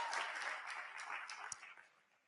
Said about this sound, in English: we can clap for the basketball team and Mitch